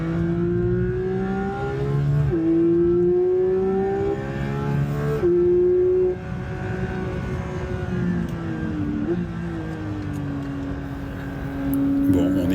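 Porsche sports car engine climbing through the revs, a loud continuous tone rising and dipping through several gear-like steps across the whole stretch.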